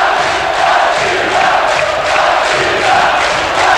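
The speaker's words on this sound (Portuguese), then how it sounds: "A torcida tá gritando o nome dele" A dense football stadium crowd roars and chants steadily in a Brazilian Fluminense versus São Paulo match from the 2001 Rio-São Paulo tournament, a loud sustained wash of voices with rhythmic swells and no distinct single speaker.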